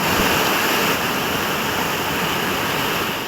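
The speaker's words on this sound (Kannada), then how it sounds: "ಮತ್ತೊಂದು ಕಡೆ ಜಲಪಾತ ನೋಡುಗರ ಕಣ್ಮನ ಸೆಳೆಯಿತು." Rainwater pouring off a university campus near Chikkaballapur after heavy daytime rain, forming a waterfall; a loud, steady, dense rushing roar of falling water throughout.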